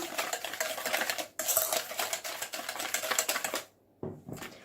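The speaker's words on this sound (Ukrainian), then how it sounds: "перемішую вінчиком" Rapid, steady clicking and tapping of a whisk against a bowl of cookie ingredients with vanilla sugar, close up, with a brief pause before it resumes.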